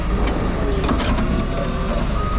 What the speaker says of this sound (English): Cut the bolts some more.